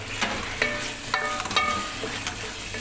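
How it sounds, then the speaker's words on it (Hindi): Minced meat (qeema) frying in a pot while being stirred, a steady soft sizzle with scraping strokes of a spoon and light clinks against the pot at close range. "कीमा भून रही हूँ इस टाइम।"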